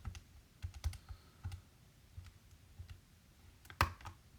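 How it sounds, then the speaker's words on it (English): Values are typed on a calculator as a series of faint, sparse button taps and clicks in a quiet room, with one sharper click near the end. "I can now just quickly go to my calculator and type in these values."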